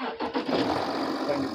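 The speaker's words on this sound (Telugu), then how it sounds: "బండి అయితే కనుక సింగిల్ సెల్ఫ్ అయితే స్టార్ట్ అవుతుంది," A 2012 Audi Q7 with a large engine cranks and catches in a quick, rough burst of starting noise, close and fairly loud, over in a moment.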